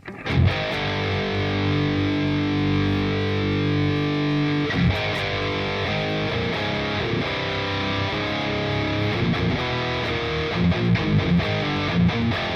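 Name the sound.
guitar through Hyper Fuzz distortion pedal preset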